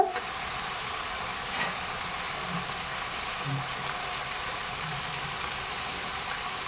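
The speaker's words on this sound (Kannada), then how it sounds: "ಇದು ಕೂಡ ಫುಲ್ಲು ಫ್ರೈ ಆಗಬೇಕು" Food frying in a pan, an even, moderate sizzle running throughout with a few faint taps and stirring touches, no speech.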